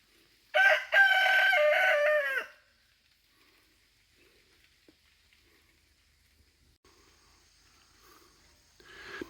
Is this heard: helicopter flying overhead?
no